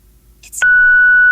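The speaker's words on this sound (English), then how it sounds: "I'm beeping that out." A loud, steady censor beep cuts in after a brief burst of noise and holds a single high tone until the end.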